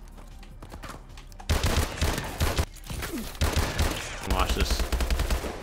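M1 Irons rifle in Advanced Warfare firing rapid loud bursts of shots with brief gaps between volleys, with a voice speaking briefly near the start.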